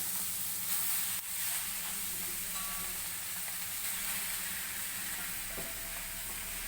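Chicken goes into a hot pan of masala for an old-style toddy-shop chicken curry, setting off a loud, continuous sizzle and crackle that fills the whole stretch without any talking.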